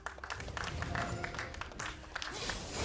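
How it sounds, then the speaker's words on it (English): Arena crowd at a League of Legends NA LCS esports match claps in a steady, dense wash of applause, moderately loud and continuous, with faint commentator voices underneath. "Dragon clap from the crowd."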